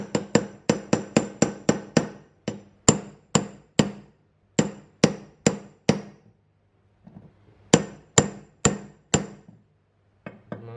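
A hammer taps a socket to seat a part during a zero-turn lawn mower rebuild. A quick run of crisp metallic taps is followed by a few more spaced strikes, a short pause with faint handling, then another burst of taps.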